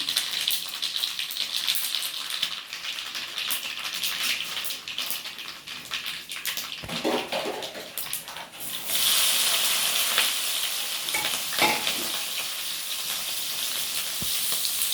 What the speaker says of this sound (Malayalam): കടുക് പൊട്ടി വരുമ്പോൾ നമുക്ക് ഈ ഉള്ളി, പച്ചമുളക്, ഇഞ്ചി അതിലേക്ക് ഇടാം